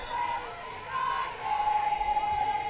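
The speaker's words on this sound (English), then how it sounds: "Crowd really getting stuck in now." Crowd at a women's hockey match between Loughborough and Birmingham, cheering and shouting in rising waves over a distant, echoing backdrop, moderately far and building toward the end.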